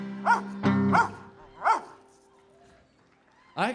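A dog barks in short bursts nearby, several loud barks spaced across a few seconds, with a whimpering tone between them and a final bark at the end, no talk over it.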